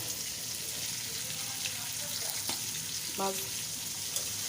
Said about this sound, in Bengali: দেখো মাছটা ভাজা হয়ে যাচ্ছে, আর একটু ভেজে নিব।